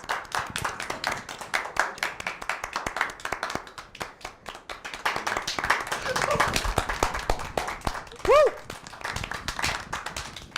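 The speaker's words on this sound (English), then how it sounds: "Round of applause." A small group claps on a knitting and crafts show, a quick, uneven patter of hands with voices talking and laughing over it and a brief squeal of laughter near the end.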